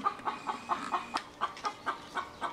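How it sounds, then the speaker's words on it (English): Chicken squawking and clucking in a steady run of short, fairly loud bursts, about a dozen in quick rhythm, close by with no talk. "Almost lost it when that chicken started squawking."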